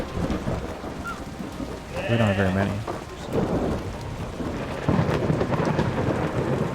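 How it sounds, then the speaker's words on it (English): Rain and rumbling thunder fill the Kubifaktorium video game soundscape as a steady wash, with a brief tonal game sound partway through and someone talking over it. "And it's raining in game."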